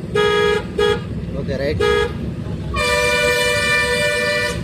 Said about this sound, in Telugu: హార్న్ కొట్టి వెళ్ళిపో